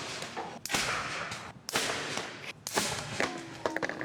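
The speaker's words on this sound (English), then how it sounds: "anyone else who had a potato gun, they were going to recognize that sound" Homemade potato gun fired repeatedly, each shot a sharp, loud whip-like crack with a brief bright burst, several blasts spaced about a second apart, close by and dominating the scene.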